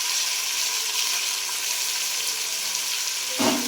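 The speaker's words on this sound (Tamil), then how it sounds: "இப்போ வந்து முட்டைக்கோஸ் போடுறோம் பாருங்கள்." Shredded cabbage goes into frying onions for fried rice. A bright, even sizzle hisses throughout, and a brief thump and surge come near the end.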